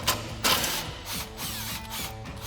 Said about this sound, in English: we'll grab our 15mm socket on our impact and go ahead and run that bolt out